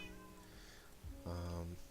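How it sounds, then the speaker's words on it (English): Kittens meow softly in a quiet room, with a couple of faint cries followed by a longer, louder, tonal meow near the end. "I hear kittens."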